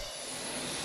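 Jet airliner landing at San Diego International Airport, its engines roaring as a steady, broadband wash of noise with a faint high whine, heard alone and fairly distant.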